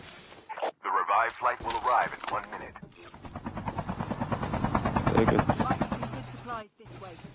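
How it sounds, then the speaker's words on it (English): Helicopter in Call of Duty Mobile squad gameplay, a loud steady rotor chop that builds and fills the scene alongside bursts of gunfire, with players talking over it. "Chopper there."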